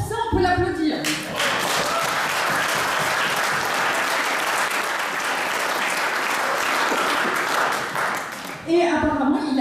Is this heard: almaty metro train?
no